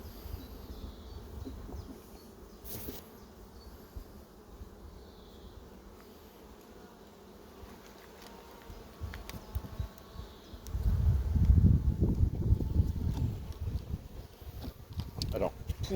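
Honeybees buzzing around an open hive from a swarm-made colony, a constant outdoor drone that swells louder toward the end, with someone speaking French faintly at times underneath.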